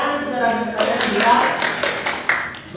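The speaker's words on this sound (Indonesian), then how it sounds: "Tepuk tangan saudara sekalian juga" Scattered, rhythmic hand claps from an audience in a classroom, fairly quiet and spaced out, with a voice speaking at the start.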